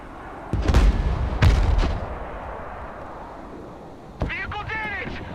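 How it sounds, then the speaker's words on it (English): In the video game Broken Arrow, a missile is fired at a tank, producing sharp booming blasts and a second loud impact, followed by a fainter burst of clattering gunfire, with the game's voice chatter mixed in. "So as this thing gets close enough where it sees the first tank, there it goes. It fires a missile."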